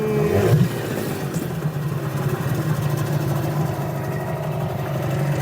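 A small outboard boat engine idles during winter storage, a steady low chugging drone that runs evenly throughout, loud and close, with no talk.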